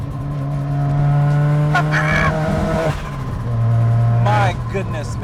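A Mazda RX7 rotary engine droning steadily while driving, with rising and falling revs and a sharp shift burst near the end, loud and close inside the car, with someone talking over it.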